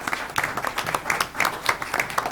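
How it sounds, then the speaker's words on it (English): An audience at a board candidate forum applauds, a short burst of steady, moderately distant hand clapping filling the whole moment. "if I can get a round of applause for the candidates that's put their time in this"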